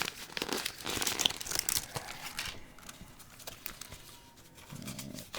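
Bare metal foil is pulled and crinkled out of its packaging, giving close, scratchy rustling and crackling bursts that come and go.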